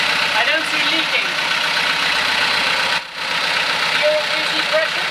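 A sailboat's engine idles at sea in the Gulf of Tadjoura, Djibouti, a steady loud rumbling drone with a brief dip near the middle, and voices speak over it.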